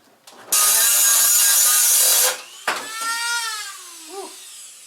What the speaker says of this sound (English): If you're wondering what I'm using, it's this. Little Dremel, easy lock.